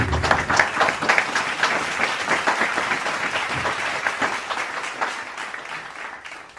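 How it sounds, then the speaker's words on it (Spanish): A large crowd claps enthusiastically, dense applause that stays strong and gradually eases toward the end. "Denle un aplauso al Señor."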